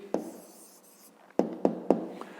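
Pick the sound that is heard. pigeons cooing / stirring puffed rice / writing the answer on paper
writing the answer on paper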